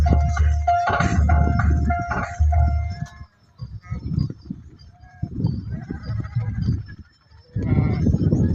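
Sheep bleat repeatedly and loudly near at hand during a devotional procession where a horse circles the flock, with the calls coming in bursts separated by short gaps.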